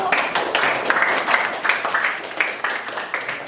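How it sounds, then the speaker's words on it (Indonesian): Applause and clapping from a class audience for a presenting student group, a steady patter of hands with rhythmic surges, fairly close and moderately loud. "Tepuk tangan buat kelompok 1."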